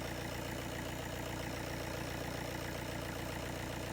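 A car engine idles steadily throughout a battery charging test, a constant low rumble with a faint even pulse, heard alone without any talk.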